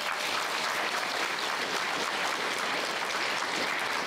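Sustained applause fills a school's 70th anniversary concert in Piltene, a dense, steady wash of clapping from the audience at even loudness throughout with no voices on top.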